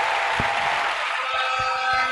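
Church congregation clapping in praise at a 40th-anniversary celebration service, a dense, continuous round of applause from many hands, steady and fairly loud with a few sharper claps standing out.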